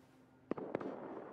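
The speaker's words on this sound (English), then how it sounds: "There's someone shooting me." Two sharp, distant gunshots in the survival video game Rust, about a quarter second apart, faint against a quiet background with a short echoing tail.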